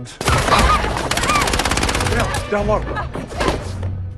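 Rapid bursts of automatic gunfire from a film scene, shot from atop a building, rattle loudly for several seconds, followed by scattered shots and clatter, with a faint voice mixed in.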